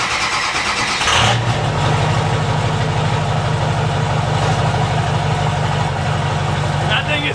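A Ford 6.0 Powerstroke diesel with a new bed stack fires up about a second in, then settles into a loud, steady, rumbling idle that runs unbroken to the end.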